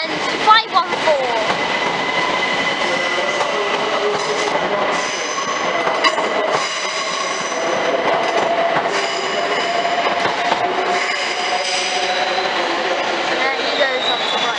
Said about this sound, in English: One incredibly long train.